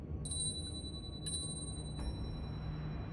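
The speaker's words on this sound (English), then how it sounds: "The shaman's ringing a bell." A bell rung by a shaman in the video game Nine Sols gives three bright metallic strikes, each ringing briefly, over a low steady ambient drone.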